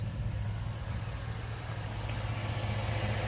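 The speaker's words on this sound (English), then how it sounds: "y'all listen to this engine." A lowered 4x4 Chevy Tahoe engine idles steadily nearby after an engine swap, a continuous low rumble with an even hum and injectors audibly firing, no talking.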